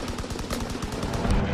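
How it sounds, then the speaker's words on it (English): Rapid machine-gun fire from an aircraft strafing run in the World War II video game Call of Duty, a dense burst of evenly spaced shots, loud and close, with no talking. "Strafing run."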